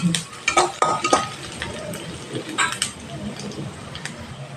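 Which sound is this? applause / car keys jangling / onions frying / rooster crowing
onions frying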